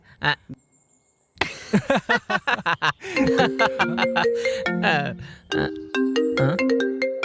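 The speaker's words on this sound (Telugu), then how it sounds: "అరే అమ్మ ఫోన్ చేస్తుందిరా" A phone ringtone plays a rhythmic electronic melody of repeated tones, starting after a short pause and continuing with bright, beeping notes.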